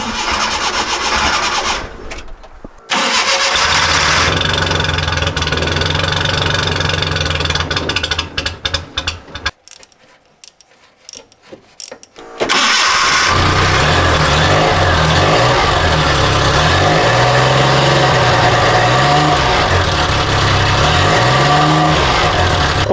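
An old vehicle engine cranks in cold weather, stumbling and cutting out through several failed starts, then catches and runs, revving up and down loudly and close.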